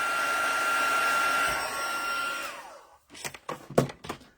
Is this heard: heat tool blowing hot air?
yes